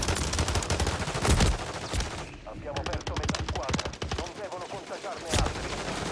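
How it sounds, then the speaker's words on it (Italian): Rapid machine gun fire rattles through a shooter video game in dense, sustained bursts with short pauses, loud and close, with other game noise underneath. "Rumore della mitragliatrice."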